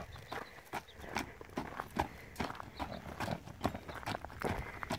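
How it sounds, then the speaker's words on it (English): Horse trotting in a round pen, a steady rhythmic clip-clop of hooves on soft ground at moderate distance, with faint snorts and no clear talk. "Your trot's ridiculous."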